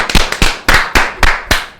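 A small gathering at a religious meeting claps in a sharp, rhythmic pattern, about seven loud, distinct claps in quick succession, close and without talk.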